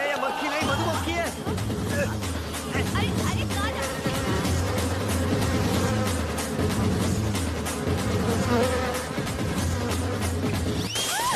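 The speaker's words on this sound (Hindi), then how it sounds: "ये मक्खी नहीं मधुमक्खी है।" Honeybee buzzing in a movie scene, a steady insect drone heard close and continuous under a busy mix of background noise and voices.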